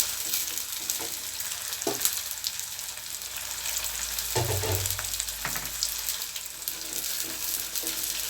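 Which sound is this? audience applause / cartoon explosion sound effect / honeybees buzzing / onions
onions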